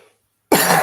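A single sharp, loud adult cough bursts out after a short silence, close to the microphone, during a live chat from a duck-hunting blind.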